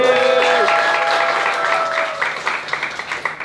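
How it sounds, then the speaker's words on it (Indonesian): A studio audience claps in a warm burst while a musical sting plays over it, then the applause thins into scattered, uneven claps as voices begin to chatter. "Tepuk tangan dulu dong guys."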